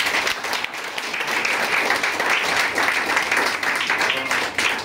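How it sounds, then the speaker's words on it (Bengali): A crowd at a political gathering claps in sustained, dense applause, loud and even from start to finish with no pauses. "সকলে মিলে একবার জোরে জোরে করতালি।"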